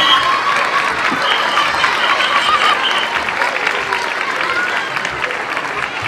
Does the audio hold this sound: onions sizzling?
no